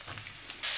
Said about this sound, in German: brate ich die Pilzscheiben jetzt noch an